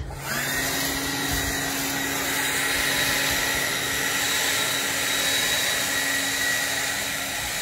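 Kimo cordless battery leaf blower spinning up and then holding a steady, loud high-pitched whine with a constant airy rush, close to the listener and with no talking.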